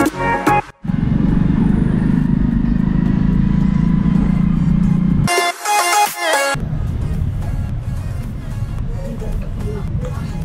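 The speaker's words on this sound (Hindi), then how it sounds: "अभी बाइक चल चुकी है" A bike taxi motorcycle rides along a road, a loud continuous roar of engine and rushing wind filling the clip, broken by a short sharp change midway before the steady ride noise resumes.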